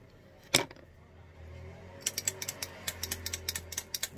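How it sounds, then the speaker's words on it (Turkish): A small screw on a 1979 lighter is tightened, first a sharp click, then a run of quick, light mechanical ticks and clicks close to the listener, with no talk. "Bu arada bunun vidası bir miktar gevşemiş, gevşekti. Bunu sıkmamışız. Hemen sıkalım."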